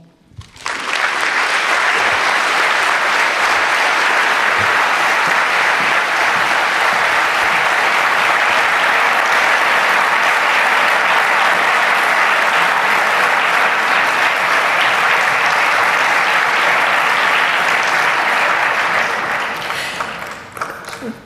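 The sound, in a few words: audience applause at UNESCO conference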